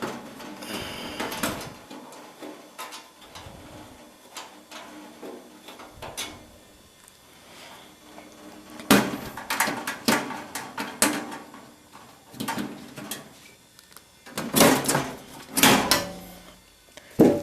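A Lian Li PC-K7B computer case is opened by hand, giving close, irregular metallic clicks, clanks and sliding panel knocks separated by quiet gaps.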